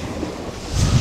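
Sea waves and gusting wind at a pier, low rumbling wash with wind buffeting the microphone, swelling louder toward the end, no voices.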